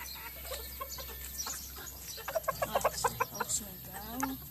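Chickens cluck in a rapid run of short, punchy calls while pecking at papaya, close by, with a few softer clucks and rustling before and after.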